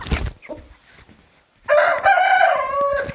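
A rooster crows loudly and close by, a long drawn-out call following some brief scratchy noises.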